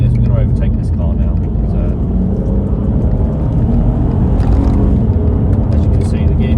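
An Audi TT V6 engine drones with a steady, loud, rumbling roar from inside the car as it drops gears to overtake, with a voice talking over it.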